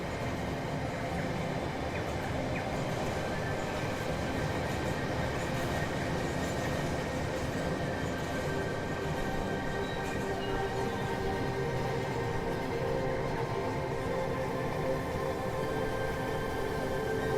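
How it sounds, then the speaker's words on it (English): Long, slow freight train rolling around a model railway layout in the Rolling Line game, a steady continuous rumble with rail clatter and a faint high whine throughout, no talking. "There's our long, slow freight train."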